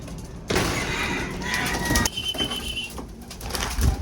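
Checkered pigeons coo softly while being fed, over a steady broadband rustle with occasional light knocks and flutters nearby.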